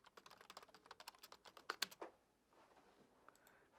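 Quick, irregular typing on a computer keyboard while entering text into a spreadsheet, close and fairly faint, with a flurry of keystrokes that thins out into quiet.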